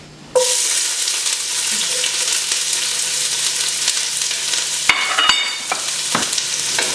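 A whole chopped onion hits a couple of tablespoons of hot olive oil in a heated pot, bursting into a loud, continuous close sizzle, with a few clinks of a utensil near the end.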